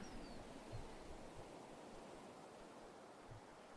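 Soft white noise ambience from the video game Perfect Tides, a faint, steady hiss like distant surf with no distinct events, running quietly throughout.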